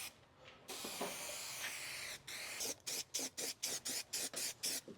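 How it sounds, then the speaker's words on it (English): Spray glue hisses onto fabric during upholstery work on a 2023 Ford Transit van build, starting with a long continuous spray, then a series of about nine short even bursts in a quick regular rhythm, close and fairly quiet. "Let's go ahead and spray our glue on our fabric."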